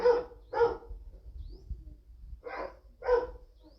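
A dog barks twice, pauses briefly, then barks twice more, loud and close.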